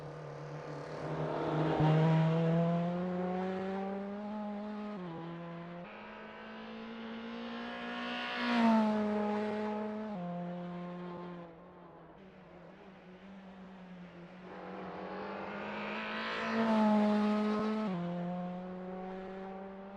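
Toyota GR86 race cars lap Sebring in Assetto Corsa, their engines rising and falling through repeated gear changes as they accelerate, with no talk over the steady engine drone.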